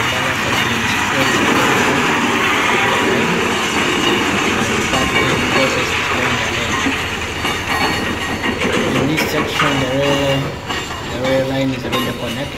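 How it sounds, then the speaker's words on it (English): Train with ballast hopper wagons rolling along a newly revamped railway line in Uganda, a loud rumbling roll with rhythmic wheel clatter and a brief squeal toward the end. "the S wagon or the ballast wagon or the hopper wagon for carrying the ballast container"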